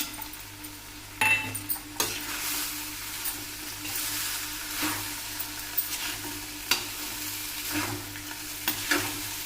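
A spoon stirs coriander, turmeric, chili and salt sizzling in a pot for Pahadi ras bhaat, with steady frying hiss and repeated metal clinks against the pot, close and alone.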